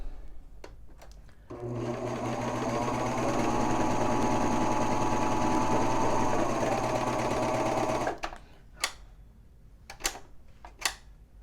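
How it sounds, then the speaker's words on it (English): A serger sews the short end of a T-shirt neckband, running in one loud, steady mechanical whir for about six seconds, framed by soft handling clicks and fabric rustles before and after. "We're going to sew along this short end with the serger."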